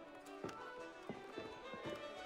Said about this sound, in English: I found a horse. It's a horse.